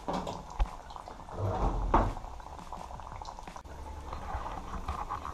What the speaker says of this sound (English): We're going to allow them to fry.